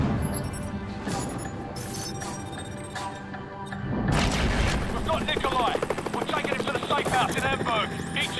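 A helicopter in Call of Duty: Modern Warfare Remastered thunders with a steady rotor roar under dense combat noise, gunfire and crashes, growing louder and more chaotic partway through, with a voice talking over it.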